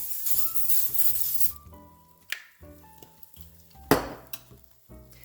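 Air fryer chicken wings brushed with avocado oil being turned over with a metal fork: a series of sharp clinks and scrapes against the basket over a soft sizzle, with quieter gaps between the knocks.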